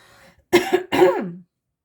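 Two harsh coughs in quick succession, close and loud, the second trailing into a throaty rasp, then silence.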